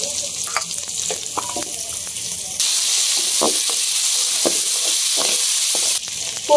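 A spice paste of ground onion, garlic and ginger frying in a pan, a steady hiss that jumps louder partway through, with scattered stirring scrapes and soft clinks close by.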